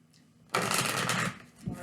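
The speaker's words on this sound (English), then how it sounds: "I'm going to shuffle this one too." Tarot cards being shuffled by hand, a single dense riffling burst lasting under a second, close and clear against a quiet room.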